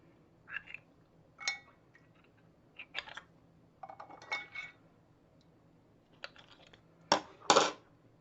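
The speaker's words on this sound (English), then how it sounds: "So I've just got a slotted spoon, you could use a sieve, and simply fish out" A slotted spoon fishes small plastic pieces out of water, giving sparse light clicks, taps and clinks in short irregular bursts against a quiet background, the loudest two near the end.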